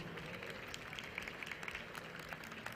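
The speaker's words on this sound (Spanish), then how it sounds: "Un fuerte aplauso" Faint, steady applause from an insurance conference audience as a panelist takes the stage, a distant, even patter of many hands with no clear peaks.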